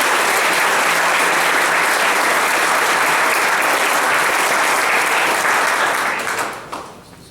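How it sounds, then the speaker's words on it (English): Loud, sustained applause from an audience for cadets at a JROTC change of command ceremony, a dense continuous roar of clapping that tapers off in the last second. "Please join me in a round of applause for these cadets."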